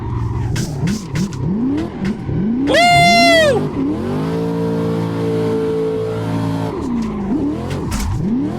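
A Corvette C6 in the racing game Assetto Corsa drifts with a handbrake pull, its engine revving up and down in loud sweeps while a sustained high tire squeal rings out, all without voices.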